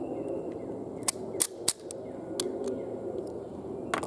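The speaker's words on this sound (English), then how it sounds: "we're going to fire 5 more rounds" A French MAS-36/51 rifle fires a handful of sharp, cracking shots at uneven intervals, with two close together near the start and more spaced out after, over a faint outdoor background.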